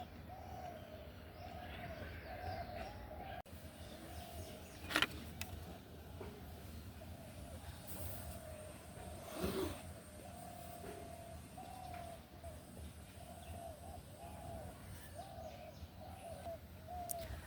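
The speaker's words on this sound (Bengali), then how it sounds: "আশেপাশে কি সুন্দর ঘুঘু ডাকে" A dove coos repeatedly from nearby on a rooftop on a winter day, its soft low calls recurring steadily over a quiet background with a few faint distant noises.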